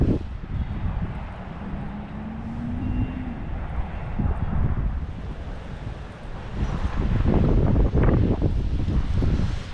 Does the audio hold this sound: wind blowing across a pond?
yes